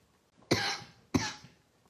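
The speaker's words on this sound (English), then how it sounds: "Sorry, I will have to cough." A person with a cold coughs twice indoors, two sharp, close bursts about half a second apart with quiet between them.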